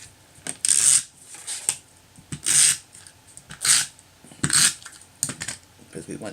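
Adhesive tape is pulled off and pressed onto a card panel in repeated short, crisp rips and rustles, close and fairly loud, with quiet gaps between them.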